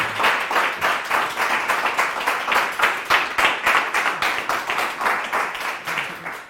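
A concert audience claps for a vibraphone and piano jazz duo in a steady, evenly pulsing round of applause that lasts several seconds at moderate loudness.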